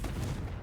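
A Confringo spell in the Hogwarts Legacy video game lands as a brief, dense blast, a deep rumbling boom that holds steady and then cuts off abruptly.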